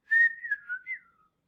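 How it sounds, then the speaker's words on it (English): A single person whistles a short, clear tune of a few sliding, wavering notes lasting about a second, close and alone in silence. "14, whistling."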